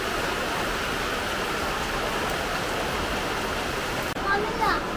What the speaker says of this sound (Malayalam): രണ്ട് ദിവസത്തെ ഇടവേളയ്ക്ക് ശേഷം മഴ എത്തിയിട്ടുണ്ട്